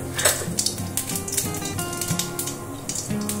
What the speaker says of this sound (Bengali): কড়াতে তেল দিয়ে দিয়েছি, এর মধ্যে সামান্য একটু জিরে ফোড়ন দেব।